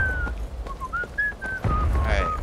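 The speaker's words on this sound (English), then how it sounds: "we got some dope whistling going on" A melodic whistled tune in the Civil War game War of Rights at Antietam rises and falls in clear sustained notes, up close over low rumbling background noise.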